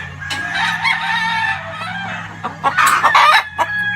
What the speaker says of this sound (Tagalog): This is our white Kelso pen. This is the brood cock.